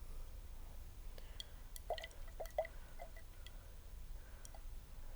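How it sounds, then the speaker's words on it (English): One or two drops of water fall into a salt solution in a laboratory test tube, giving small, soft, close ticks and plinks over a quiet background. "add a little more water, because some salt I can still see at the bottom, 1 or 2 drops like this"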